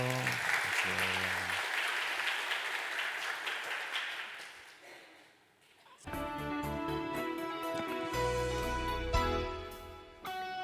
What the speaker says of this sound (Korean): 우리 사모님 처음으로 교회 오셨는데 박수 한번 해드릴까요?